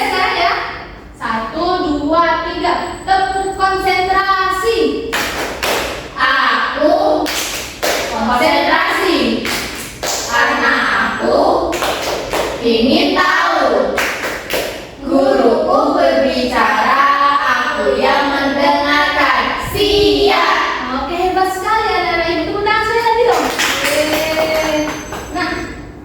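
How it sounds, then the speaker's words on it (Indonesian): Primary school children in a first-grade classroom perform a rhythmic concentration clap, sharp patterned claps and taps alternating with children chanting together in short bursts. "Bareng-bareng ya sekarang ya. 1, 2, 3. Tepuk konsentrasi."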